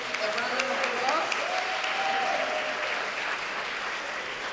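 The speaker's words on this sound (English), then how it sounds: "Give them a round of applause." A crowd at a community forum applauds in a steady wash of clapping, with a voice speaking faintly over it.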